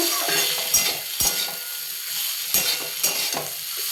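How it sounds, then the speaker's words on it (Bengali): Spiny gourd (kakrol) frying in a pan under a steady hiss of sizzling oil, with about four sharp scrapes and clinks of a spatula as the pieces are stirred, heard close with no talking. "কাঁকরোল ভাজা হচ্ছে"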